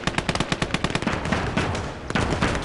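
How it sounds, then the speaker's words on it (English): Minenwerfer mortar fire in a WWII video game: a dense, loud run of rapid blasts and crackling impacts, with a second burst of explosions near the end. "Look at this explosion. Whoa!"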